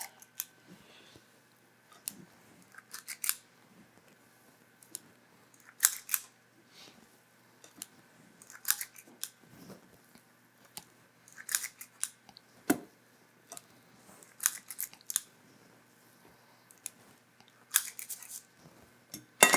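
Oatmeal cookie dough portioned with a cookie scoop onto cookie sheets, a dozen to a sheet: a repeated series of short, sharp metallic clicks and scrapes, fairly close, spaced irregularly over quiet kitchen background.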